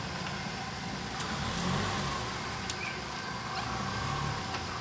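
A car engine hums and accelerates at a modest distance, a fairly quiet, steady motor drone with a slight swell partway through and no talking over it.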